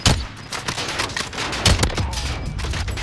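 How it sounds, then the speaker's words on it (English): Gunfire in Call of Duty: Modern Warfare, a loud burst of shots at the start followed by further scattered cracks and a heavy thump midway, all over a busy game background. "Oh, he's shooting at me."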